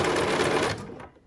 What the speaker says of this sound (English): I'm gonna use my hand wheel to turn my needle into position so I can remove my pin, and I'm just gonna stitch that together